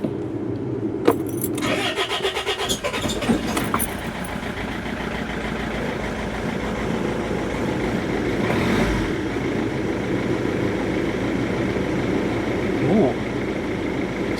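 A diesel car with faulty injectors cranks over, catches and settles into a slow, rough running idle, loud and close throughout after a jangle of keys at the start.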